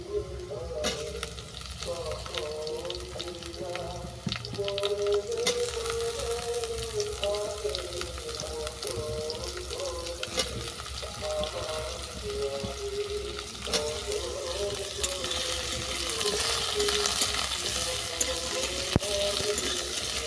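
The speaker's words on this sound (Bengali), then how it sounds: "শসা আর ঝিঙেটাও কিছুক্ষণ ভেজে নিচ্ছি।" Cucumber and ridge gourd fry with browned potatoes in a pan, a steady close sizzle with occasional stirring, continuing alone throughout.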